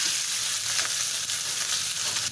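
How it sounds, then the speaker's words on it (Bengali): Chicken frying in hot oil gives a dense, continuous bright sizzle, close and steady with no talking. "তেল দিয়ে চিকেনটাকে ভেজে নিব"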